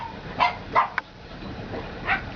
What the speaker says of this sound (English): it'll probably be noisy because all the dogs are going to bark